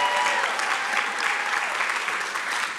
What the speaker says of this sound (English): let's give a round of applause for Summer Victoria Jones